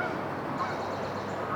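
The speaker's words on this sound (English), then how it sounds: "Noisy bird." A noisy bird, like a goose, honks faintly at a distance within steady outdoor background noise, with no voices.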